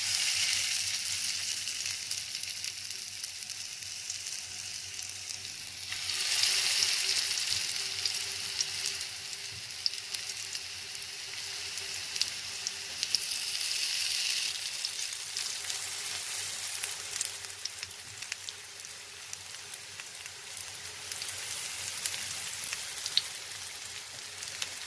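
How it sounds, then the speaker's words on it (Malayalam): Mutton seekh kebabs fry in hot oil in a heated pan, giving a steady close crackling sizzle that holds for the whole stretch with a few louder spits and bubbling bursts along the way. "ഇനി നമുക്കിതൊന്ന് ഫ്രൈ ചെയ്തെടുക്കാം."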